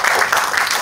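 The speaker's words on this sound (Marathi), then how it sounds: "तर एकदा सिनेमातल्या सगळ्या कलाकारांसाठी एकदा आपण जोरदार टाळ्या वाजवूया." An audience at a Marathi film song launch gives a burst of loud applause, a brief dense wash of clapping heard close with no break.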